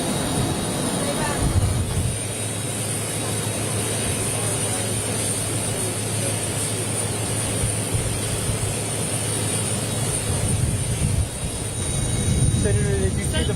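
A jet airplane engine runs at an airport, giving a loud, continuous roar and whine that fills the scene, with voices faintly mixed underneath.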